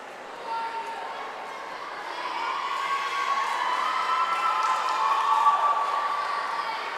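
Spectators cheer and shout in an echoing indoor pool as a boy swimmer finishes the freestyle leg of a high school swim meet against Sharon, a sustained crowd roar that swells toward the end.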